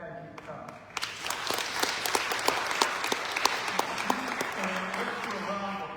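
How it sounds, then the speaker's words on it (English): An audience at a school administrators' panel bursts into applause, steady clapping from a sizable crowd that swells after a moment and holds, with a voice speaking over it. "let's do a round of applause to Chairman Griffith"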